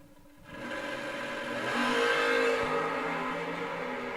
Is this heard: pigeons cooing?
no